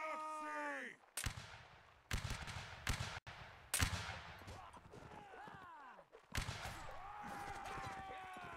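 Musket volleys in the Napoleonic Wars video game line battle, several sharp cracking bursts that come at irregular intervals and ring out, with voices talking between the shots.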